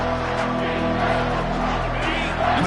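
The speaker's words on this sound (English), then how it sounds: "And the crowd coming to life here, trying to help this defense down in the red zone" A stadium crowd in an American football video game roars as a steady, dense wall of noise near the red zone on third down, layered under a sustained low hum.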